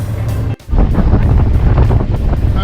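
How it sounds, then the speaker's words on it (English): Strong wind of about 15 knots blasts across a boat motoring along a river, making a loud, constant roaring buffet with a brief dropout near the start. "The wind has picked up."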